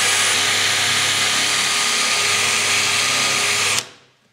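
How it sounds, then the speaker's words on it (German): Power drill boring parts for a wooden marble run, a steady loud whirring drone held for almost four seconds before it cuts off abruptly and winds down. "So, ruckzuck habe ich mir mein zweites eingestellt, dann kann ich gleich weiter bohren."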